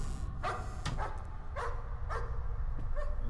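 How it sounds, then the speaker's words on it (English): A dog barks several times in a short, spaced series inside the horror game Layers of Fear, the yaps fairly close but muffled over a low rumbling ambience, with no talk. "Is there a dog?"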